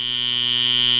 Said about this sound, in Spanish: Ese pitido en mi cabeza.